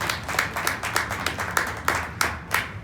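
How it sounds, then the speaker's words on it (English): Applause from an audience at a community gathering. A few people clap at a steady, fairly quick rhythm for a few seconds, close by and moderately loud. "we want to give him a round of applause."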